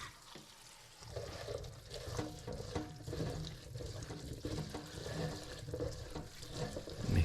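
Small tomatoes rinsed under a running kitchen tap, a soft continuous splash of water over them that is fairly faint and steady, with nobody speaking.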